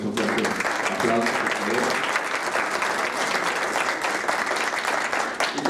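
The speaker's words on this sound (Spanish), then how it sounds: "Muchísimas gracias, le damos un fuerte aplauso." Audience at a book presentation gives author Guadalupe Nettel a strong round of applause, loud sustained clapping from many hands with a voice briefly heard under it at the start.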